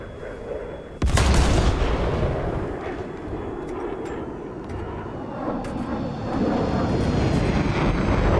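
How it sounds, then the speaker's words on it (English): An enemy jet flies by in a tank combat video game: a sudden loud blast, then a sustained heavy roaring rumble that swells near the end. No one speaks. "Oh, that's definitely an enemy jet, isn't it?"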